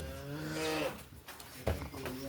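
A pregnant heifer on a farm lets out a loud, close moo lasting under a second, followed by brief stirring and a second short low grunt.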